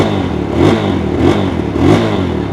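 A GPX Demon GR200R sport bike with a standard engine and freshly painted exhaust runs close by, its engine swelling in three steady, evenly spaced revs over a continuous idle.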